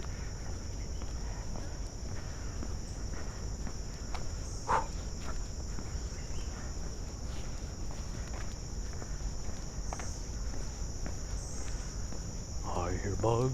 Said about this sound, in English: I hear bugs in the ramble making noise.